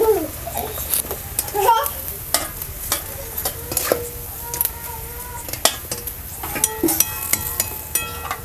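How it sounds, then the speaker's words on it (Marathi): Sabudana kurdai, dried sago crisps, deep-fry in hot oil with a steady bubbling sizzle, broken by clinks and scrapes of a utensil against the pan. Faint voices can be heard in the background. "तर आता आपण तळून घेऊया शाबू कुरडई."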